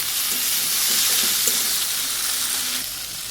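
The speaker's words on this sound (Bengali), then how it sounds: "করে এটাকে ভালো করে রসুনটার কাঁচা গন্ধ যাওয়া পর্যন্ত ভেজে নেব" Garlic fries in hot oil in a pan, a loud, continuous close sizzle with a few faint stirring scrapes underneath and no talk.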